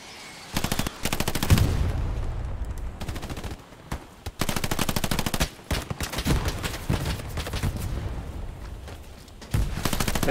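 Rapid machine-gun and rifle fire in the Hell Let Loose war game, repeated loud bursts in quick succession with brief pauses between volleys.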